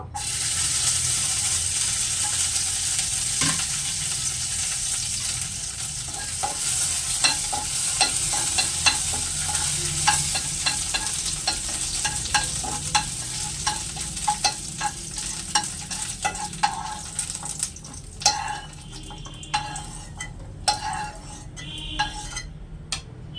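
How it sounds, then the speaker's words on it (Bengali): Raisins fry in hot oil left over from cashews, for a cabbage pulao: a loud, continuous sizzle with frequent metallic stirring clinks against the pan throughout. "একই তেলে কিশমিশটা ভেজে নেব।"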